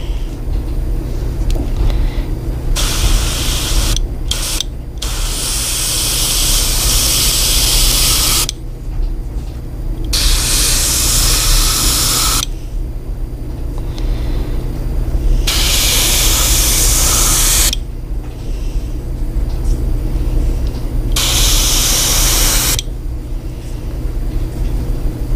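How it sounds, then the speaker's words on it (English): An airbrush sprays paint onto a Livingston B Viper swimbait lure, giving loud, steady hissing bursts of several seconds each, separated by short pauses, over a constant low background hum. "You want to try and spray a little bit light"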